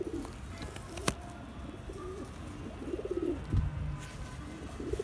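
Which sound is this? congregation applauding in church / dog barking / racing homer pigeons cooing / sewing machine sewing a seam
racing homer pigeons cooing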